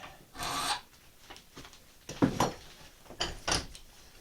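A hand file rounds the edge of a crooked knife blade in short rasping strokes, a few separate bursts heard close up with quiet gaps between them and no voices.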